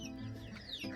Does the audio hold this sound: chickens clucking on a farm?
yes